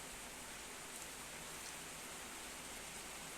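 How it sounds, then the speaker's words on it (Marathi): Morning rain falling steadily outdoors, a dense, even hiss of drops with no breaks or other sounds, soft and continuous throughout. "पावसाने सुरुवात झालेली आहे"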